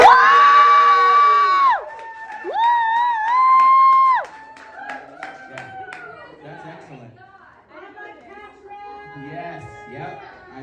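A stand-up comedy crowd at The Vault in Redding, California, whoops and cheers with loud, long sustained yells at first, then breaks into scattered shouts, murmured chatter and lighter clapping that trail off.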